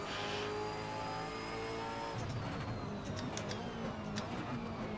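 V8 Supercar engine droning steadily at the Adelaide street circuit in Assetto Corsa, a continuous loud tone that shifts and turns rougher partway through, with faint higher whines and short ticking bursts on top.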